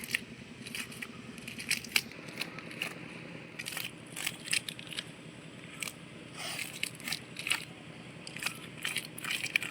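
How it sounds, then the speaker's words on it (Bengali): A large fish, a black calf fish, is being scaled by hand at home, with repeated sharp scraping and crunching strokes in irregular bursts close by, over a steady low background hum. "দিদা আর আমি একসঙ্গে বসেই আঁচগুলোকে ছাড়িয়ে নিচ্ছি"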